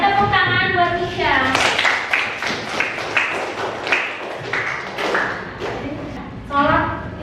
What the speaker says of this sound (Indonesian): tepuk tangan buat Tisha